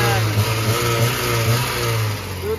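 A Volkswagen Saveiro engine runs steadily after a radiator repair, a loud continuous mid-pitched drone with slight rises in revs, close to the microphone and with no talk over it.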